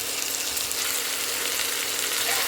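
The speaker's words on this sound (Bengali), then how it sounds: "এবার একটু হলুদ দিয়ে আলুটাকে ভালো করে ভাজবে" Potatoes with turmeric frying in hot oil tempered with cumin and fennel seeds: a dense, steady, close sizzle with no pauses and no talk.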